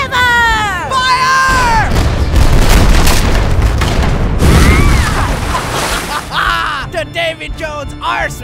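A cartoon pirate ship's cannons fire in a loud barrage of booms and crashes, with shouting voices and crowd noise over the blasts and cartoon whistling effects before and after.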